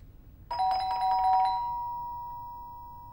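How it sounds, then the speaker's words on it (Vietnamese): A doorbell chimes several quick times in a row, a bright ringing tone, and then a single long note lingers and slowly dies away in a quiet room. "ai mà bấm chuông như khủng bố vậy?"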